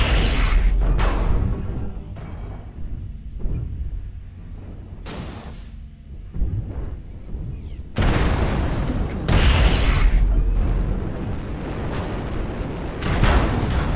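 Missile salvos and weapon fire in MechWarrior Online erupt in repeated heavy booms and blasts, loud bursts separated by quieter rumbling gaps, with dense volleys building near the end.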